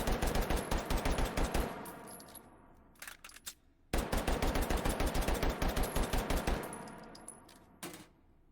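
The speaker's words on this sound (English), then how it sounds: "that was just him pulling the trigger really fast" A semi-automatic pistol emptied from standard magazines by pulling the trigger very fast, loud sharp shots in tight rapid strings, a short gap for reloading, then another long volley, close and alone.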